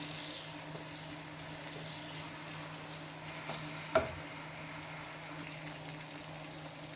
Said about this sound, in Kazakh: Пиязымызды қуырып аламыз жақсылап